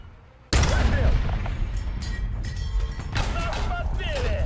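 Dense, loud War Thunder gunfire erupts after a brief quiet opening, with heavy shots and bursts overlapping continuously to the end, while a voice talks over the battle.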